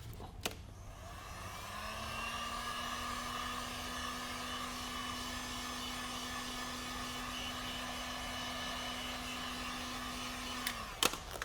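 A heat gun switches on with a click and blows hot air onto heat-reactive cast vinyl wrap, a steady close whooshing drone with a constant motor tone that holds for about nine seconds before clicking off.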